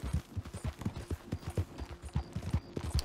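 Horse hooves clip-clopping in Red Dead Redemption 2, a quick steady trotting rhythm of soft thuds, fairly close and alone with no voices.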